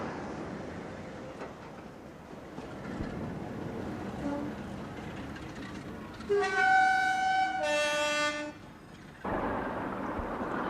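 Class 46 diesel locomotive D172 Ixion at Ramsbottom, a low rumbling engine idling and moving, then two loud multi-tone horn blasts in quick succession before the engine rumble resumes.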